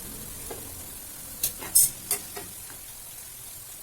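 Batter fries in coconut oil for Kerala mixture, a low steady sizzle with a few brief, sharper scrapes and clatters clustered in the middle from stirring, close by.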